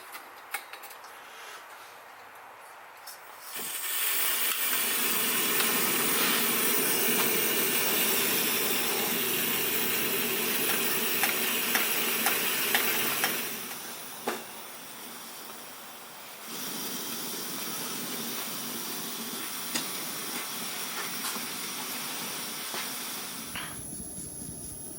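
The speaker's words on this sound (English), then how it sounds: "So let's get that stove fired up." A Coleman Dual Fuel 533 camp stove burns steadily to boil water, giving a continuous broad roaring hiss that swells louder after a few seconds, eases, then picks up again, with faint metallic clinks.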